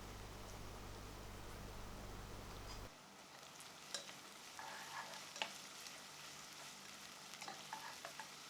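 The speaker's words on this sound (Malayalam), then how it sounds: "ഓയിൽ ചൂടായ ശേഷം അതിലേക്ക് 200 ഗ്രാം സവാള നീളത്തിൽ അരിഞ്ഞത് ചേർത്തിട്ട് നല്ലതുപോലെ ഒന്ന് ഫ്രൈ" 200 grams of long-sliced onions fry in hot oil in a pan for chicken tikka biryani. A steady, quiet sizzle runs throughout, with occasional scraping clicks from stirring and no voices.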